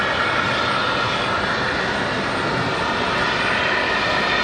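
Air France airliner departing Raleigh-Durham International, its engines producing a strong, even roar that holds steady from start to finish without any talking.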